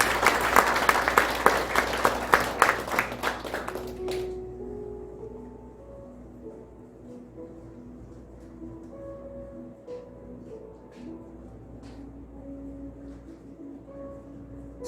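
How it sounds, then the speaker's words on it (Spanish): A church congregation breaks into loud, dense applause for about four seconds, then it quickly dies away into a quiet room with faint scattered noises. "¿Por qué no le regalas un fuerte aplauso al Señor?"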